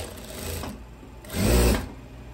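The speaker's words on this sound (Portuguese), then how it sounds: "Aqui a gente passa uma costura de reta e passa over." A sewing machine stitches a straight seam on a long, loose viscose ruffled dress, two short whirring bursts close by with the second louder and longer, no talk.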